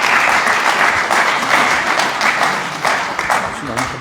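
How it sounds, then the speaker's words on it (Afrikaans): Church congregation applauding together, a steady dense wash of hand clapping that holds loud and close for the whole stretch, with a voice faintly mixed in. "Kom ons gee vir hom 'n lekker hande klap."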